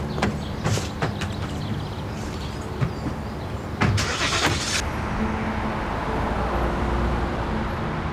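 A car starts up and pulls away nearby, with door clunks and brief mechanical clatter giving way to a steady engine and tyre rumble that fades into traffic hiss.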